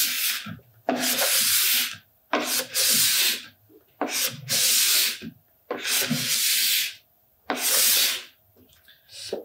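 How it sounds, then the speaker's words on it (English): A plastic scraper drags across a snowboard base, lifting off drying wax in five long, loud, rasping strokes with short pauses between them, close and without voices. "When the wax is drying, immediately scrape off the wax with a plastic scraper"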